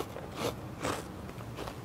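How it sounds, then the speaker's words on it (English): Close, crisp crunching of a Chinese-style dried shredded pork snack bought from a Thai supermarket, with three or four airy bites and chews spaced about half a second apart, without speech. "It's such an airy crunch"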